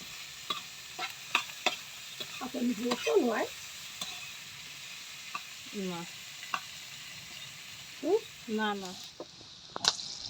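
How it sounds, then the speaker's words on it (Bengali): Onion and green chili frying in a pan on a clay stove in a village kitchen, with soft sizzling and intermittent stirring and scraping, while a person talks in the background. "এখন এই যে কাঁচামরিচ আর পেঁয়াজ কুচি দিয়ে দেখেন পেঁয়াজটা কি সুন্দরভাবে ভাজা ভাজা করে"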